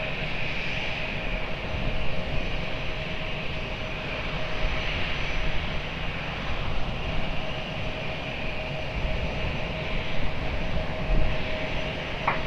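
A Ryanair airliner on runway 20 at Lisbon Airport produces a steady, loud jet engine roar that holds evenly throughout with no voices over it.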